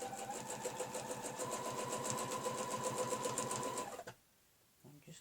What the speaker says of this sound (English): we're going to stitch our first line.